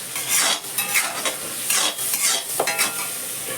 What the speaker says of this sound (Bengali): তো এখানে দেখো হচ্ছে মাছের তেল ভাজা, হলুদ দেওয়া হয় নাই।